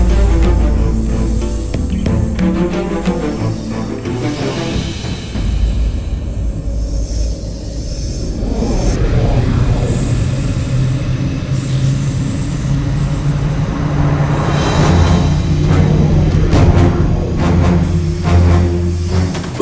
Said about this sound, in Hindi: पुष्पक विमान?